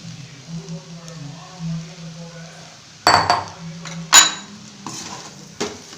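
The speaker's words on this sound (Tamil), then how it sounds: "இப்போ வந்து சப்பாத்தியை சேர்த்துக்கலாம்" Leftover chapati pieces are added to a pan and stirred, bringing a few sharp metallic clinks and scrapes of the utensil against the pan after a quiet stretch with a faint low hum.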